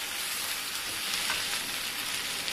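Okra pieces with salt are mixed in a hot pan, a soft continuous sizzle with light stirring and scraping, fairly quiet and steady.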